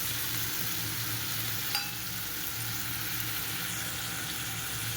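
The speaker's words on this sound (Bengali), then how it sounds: "এটাকে খুব ভালো করে ভাজা ভাজা করে নেব ঠিক আছে আর এই যে সাথে টমেটো লঙ্কাটাও দিয়ে দেবো" Spices frying in a pan with tomato and chili, including cauliflower, beans, salt and turmeric, giving a steady crackling sizzle with a brief clink of a utensil partway through.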